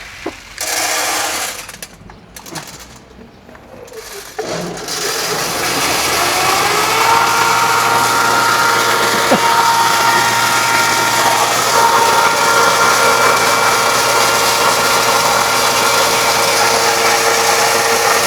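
A corn crusher rated at 200 kilos per hour grinds corn in a farm machinery shop, a loud steady motor drone that starts up after a few quieter seconds and then runs without a break.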